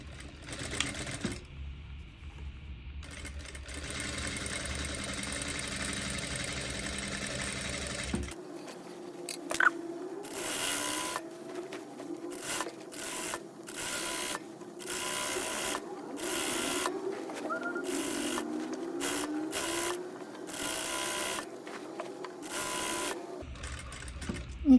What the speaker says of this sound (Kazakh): Енді закрепка беріп, теріс бетінен тігіп шығатын боламыз.